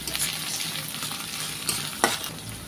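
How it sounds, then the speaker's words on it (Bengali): Ginger, garlic and onion fry in a pan for a tilapia bhuna, with a steady close sizzle and a couple of sharp scrapes as the mixture is stirred, and no voices. "আর দিয়ে দিলাম অল্প পরিমাণে একটু আদা রসুন একটু পেঁয়াজের মধ্যে ভালো করে ভেজে নেব।"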